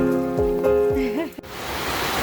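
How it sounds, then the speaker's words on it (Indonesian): Steady rain falls after a short stretch of voices and tonal sounds, its broadband hiss building on a mountain campsite at Puncak Merkusi in Gunung Halimun Salak National Park. "tapi tunggu hujannya reda. Hujan lagi."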